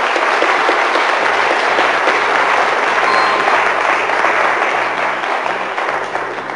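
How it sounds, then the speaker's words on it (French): Loud, steady applause from a studio audience on a French quiz show for contestant Bastien, continuous dense clapping that holds for several seconds and eases slightly at the end. "applaudissements pour Bastien, quand même."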